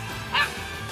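A dog gives a single short, yelping bark in a Japanese detective drama scene. It rises briefly over a steady background hum, then fades.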